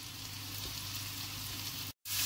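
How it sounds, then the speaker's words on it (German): Beef fillet searing in hot butter in a frying pan gives a steady, close sizzle and crackle that runs unbroken, with a short silent gap near the end before the frying resumes. "Dann erhitzen wir ein bisschen Butter in einer Bratpfanne. Und dann ist Filet ringsum 5-6 Minuten lang schön anbraten."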